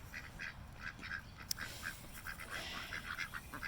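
Several ducks, including Khaki Campbells, quacking in short repeated bursts at a distance, faint and chattering over a low outdoor rumble, with no voices.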